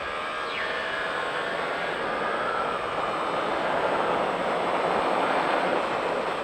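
Yamaha R1 sport motorcycle accelerating hard on a race track, a loud, steady high-revving engine roar with rising pitch that stays close and continuous throughout, no voices over it.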